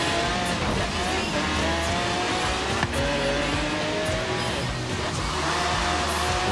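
Subaru car engine accelerating in the racing game Forza Horizon 3, a steady loud motor drone with rising revs and gear changes throughout, with no speech.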